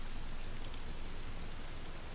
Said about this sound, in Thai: ฝนตกนะครับฝนตก